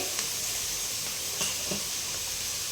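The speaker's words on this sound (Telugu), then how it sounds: "ఇదైతే బాగా ఫ్రై చేసుకోవాలి ఆయిల్లో ఇదిగోండి ఎండుమిర్చి" Dry red chillies and coconut pieces frying in oil, a steady soft sizzle and hiss running throughout with a few faint clicks, no voices.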